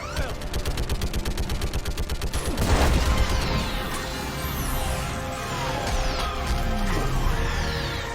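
Rapid automatic gunfire from Mass Effect 3, a fast even stutter of shots for the first few seconds, then a heavy impact and continuing chaotic combat noise with scattered shots and whooshing effects.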